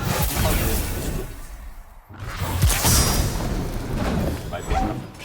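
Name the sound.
grenade ability explosion in the video game Destiny 2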